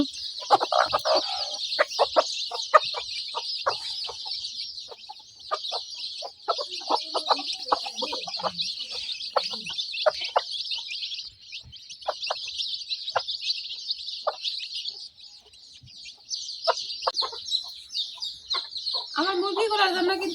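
On a small chicken farm, newly hatched chicks peep in a constant shrill chorus while mother hens cluck low and intermittently nearby.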